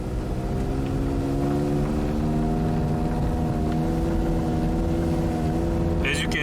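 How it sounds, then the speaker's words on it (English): A Hyundai Elantra with a transmission that will not upshift and severe engine power loss revs hard with the accelerator floored, a loud steady drone that holds level for several seconds as though stuck in gear. "So now I'm gonna floor the accelerator pedal again."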